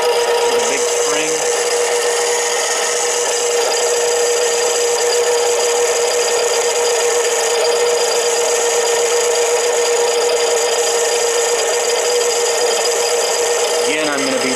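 A Harbor Freight 7x10 mini lathe cuts 304 stainless steel in one continuous pass, giving a steady, close, grinding hiss with a bright whine that runs unbroken from start to finish.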